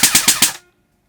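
Lancer Tactical Battle X 9mm CQB airsoft gun firing full auto: a short, close burst of four rapid snapping shots, then quiet.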